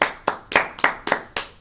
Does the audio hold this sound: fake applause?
yes